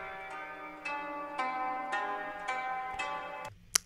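An electronic synth pluck with the low end cut by EQ, repeating in a steady bright rhythm of short notes over a sustained tonal bed, ending with a sharp click.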